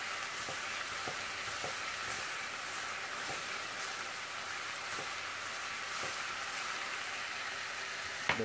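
Hamburger meat sizzles in a pan for tacos with a steady soft hiss, broken by a few light, regular stirring taps and scrapes; quiet and close, with no talking.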